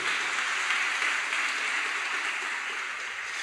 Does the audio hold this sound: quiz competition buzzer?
no